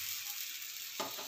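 Chakli batter spread onto an oiled hot pan, giving a soft steady hiss with a brief scrape near the end, faint and close with no talking.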